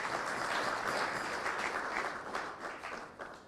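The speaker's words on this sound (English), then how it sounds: "I think you clap for him again" An audience at a memorial lecture breaks into steady, dense applause. The sound is fairly close and even, and it tapers slightly toward the end, with no talking over it.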